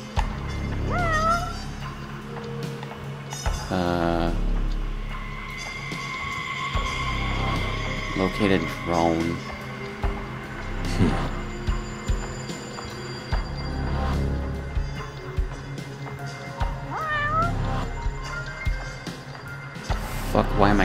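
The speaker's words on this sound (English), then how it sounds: "why am I hearing a cat?" Repeated cat meows in the video game Judgment, several short rising calls scattered through the scene over game music and ambient effects, while someone talks at length and a brief in-game voice line plays.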